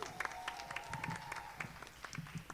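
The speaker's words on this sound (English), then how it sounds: "Clap it up for the French horns" An audience at a school spring concert claps in a scattered, fairly distant round of applause for the French horn players, with a faint sustained tone beneath.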